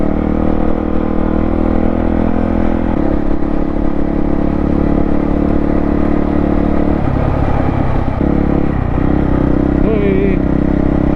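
Honda CRF dirt bike accelerating on sand, loud continuous engine drone with throttle surges and shifts in pitch, heard close from the rider's position while a voice talks over it.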